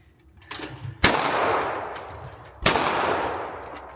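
An over/under shotgun fires two sharp, loud shots about one and a half seconds apart, each blast followed by a long decaying echo, preceded by a soft muffled knock.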